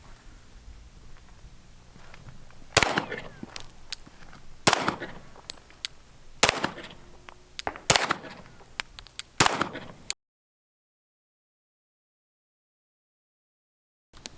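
Five sharp pistol shots from a Gen 5 17 with a stock trigger ring out at uneven intervals outdoors, loud and close, each followed by a short echo, then the sound cuts to silence.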